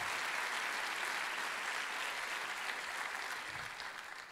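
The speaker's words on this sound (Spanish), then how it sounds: "¿Qué tal si los recibimos a ellos también con un buen aplauso?" A church audience gives sustained applause to welcome online viewers, a steady wash of many hands clapping at even loudness for several seconds before easing slightly at the end.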